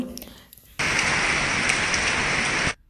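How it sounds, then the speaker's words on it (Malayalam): Heavy rain pours in a dense, even hiss for a couple of seconds, starting and stopping abruptly. "ഇവിടെയൊക്കെ ഒന്ന് രാവിലെ നല്ല മഴയാണ് കേട്ടോ"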